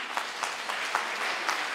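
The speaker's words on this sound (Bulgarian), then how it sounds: "Аплодисменти за нея." Audience applause at a school olympiad award ceremony in Stara Zagora, Bulgaria, a moderate, even patter of many hands clapping in a hall with a few sharper individual claps.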